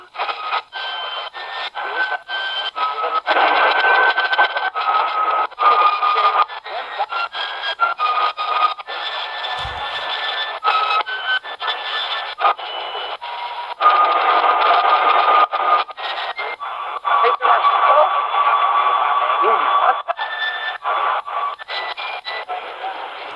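An XHDATA D-221 portable radio tuned across the AM band past 1200 kHz to weak low-power stations, giving a steady hiss with several thin whistling birdie tones that drift and change pitch, continuous and close.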